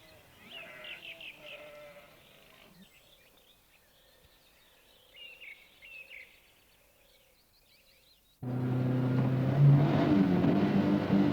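Sheep bleat in a rural setting, a few faint, scattered calls at a distance, before a loud vehicle engine abruptly takes over near the end.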